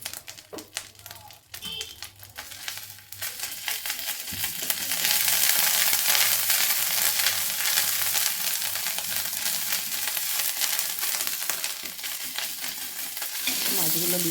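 Fish for a fish curry with onion greens hisses and sizzles in a hot pan, starting with light stirring clatter, then swelling into a steady, loud frying crackle that holds to the end.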